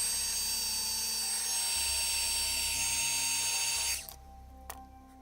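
A heat tool blows hot air while heat-setting gold embossing powder on a card, a steady whirring hum that cuts off near the end, leaving a quiet room.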